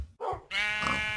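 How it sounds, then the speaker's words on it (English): A sheep in a castle's animal stables gives two short bleats, the second longer and louder, close by and alone. "Here's some sheep that he has."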